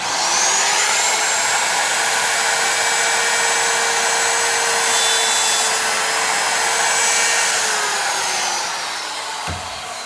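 A wood router spins at high speed and cuts a box joint in a board clamped in a Leigh D4 jig, giving a steady loud whine for about nine seconds before winding down near the end.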